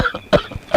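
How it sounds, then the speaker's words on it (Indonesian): A person coughing close up, three or four short, harsh coughs in quick succession with brief gaps between them. "Aduh, jadi batuk."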